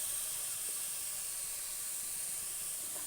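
Cut bitter gourd pieces fry in a pan for an Andhra-style bitter gourd pulusu curry, giving a steady, even sizzling hiss that holds at constant loudness throughout, close up and with no voices.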